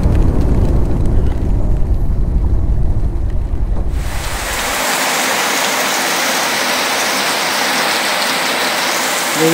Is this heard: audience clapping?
no